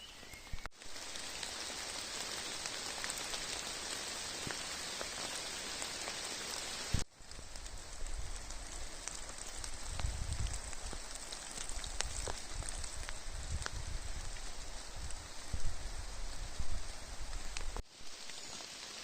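Steady rain falls through a misty Carpathian forest, a continuous close hiss of drops pattering on leaves and ground, with brief cuts in the recording and no talk.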